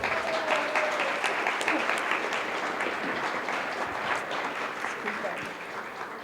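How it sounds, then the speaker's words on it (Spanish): Audience applause for an author who has just arrived at a talk: sustained clapping from a crowd throughout, steady and fairly dense, with faint voices mixed into the background. "Así es que un aplauso para ella."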